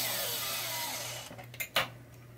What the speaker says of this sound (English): Cleaning it twice. That's what's nice about this Dremel.